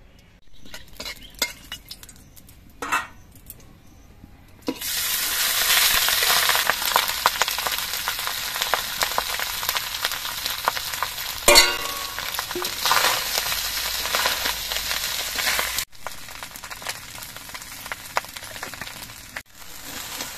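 Rice is stir-fried in a small kadai: a loud, close sizzle sets in after a few quiet clicks and runs for about ten seconds, with metal scraping and tapping over it, before dying down.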